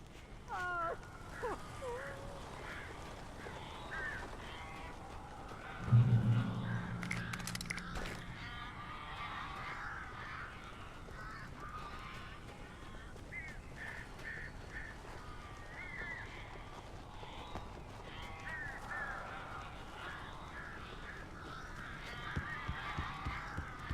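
Birds in the Alan Wake game give repeated honking, goose-like calls in the distance, with a louder burst of squawks and flapping partway through, all over a murky, low ambient background.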